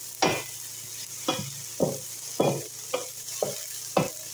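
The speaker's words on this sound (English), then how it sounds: "I'm using the electric skillet. Sauteing some peppers and onions first." Peppers and onions sautéing in an electric skillet, a steady sizzle broken by about seven scraping stirs at roughly half-second intervals, close and fairly loud with no talking.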